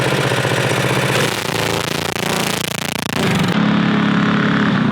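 A TrailMaster minibike's small petrol engine warms up, running as a loud, close, rough putter whose pitch shifts partway through, with no voices over it.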